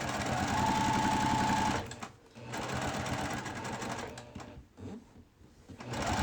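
Sewing machine stitching a curved seam on a quilt, running steadily for nearly two seconds, then restarting in shorter bursts with brief pauses, close and fairly loud.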